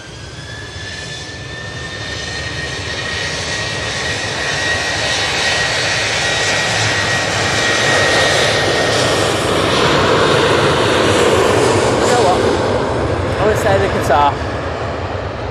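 A Qatar Airways airliner at Manchester Airport roars past, its jet engine noise swelling steadily and peaking near the end, with a thin whine running through it and voices faintly underneath.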